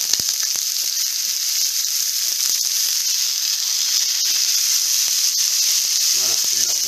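Lardons dropped into a hot pan on lowered heat give a steady, bright frying sizzle that runs unbroken throughout, close and fairly loud, with a few faint clicks near the end.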